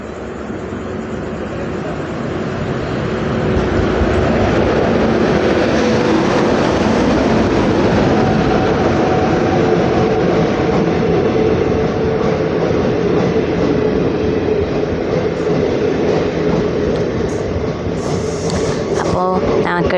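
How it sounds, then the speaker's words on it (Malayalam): A train pulls into Chalakudy station with a heavy, swelling rumble that grows louder over the first few seconds and then holds as a loud, continuous roar of rolling wheels and carriages close by. "ഇതാണ് ഞങ്ങൾ പോകാൻ പോകുന്ന ട്രെയിനാണ് ഈ വരുന്നത്"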